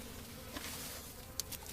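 A steady, low honeybee buzz hums throughout around a hive, like many bees swarming close by, with a brief sharper rise near the end.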